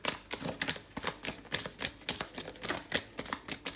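Tarot cards being shuffled by hand in a steady live shuffle, a quick run of crisp riffling snaps and slaps repeating every fraction of a second, close up and fairly quiet, with no talking.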